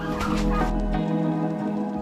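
Turkeys on an Indonesian farm call with dense, overlapping gobbling and clucking, a steady flock chorus close by with no talking.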